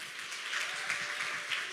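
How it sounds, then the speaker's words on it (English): Audience in a summit panel room gives a round of applause: a brief, even patter of many hands clapping, moderate in level, with no voices over it. "Another round of applause, please."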